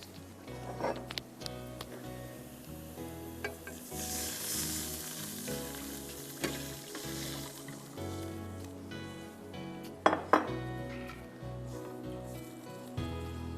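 Chopped onion and garlic fry in oil and butter in a wok with a steady, moderate sizzle, broken by a few sharp clattering stir knocks.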